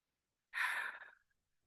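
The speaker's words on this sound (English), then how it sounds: "I'm coming back to my belly breathing." A single breath during a slow belly-breathing relaxation exercise: one soft, airy exhalation lasting under a second, close and quiet, alone in otherwise near silence.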